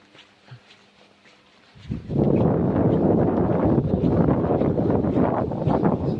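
Strong wind buffets the microphone in a loud, continuous roar after a quiet opening second or two.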